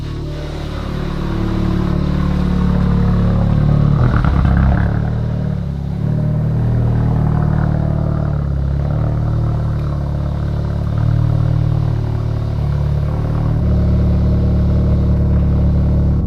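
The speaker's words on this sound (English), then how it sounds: "This car's cold start sounds awesome!" A Honda Civic Type R FK2 engine on a cold start, a steady loud idle with a low, even rumble and a brief rise in revs early on, heard close with no talk.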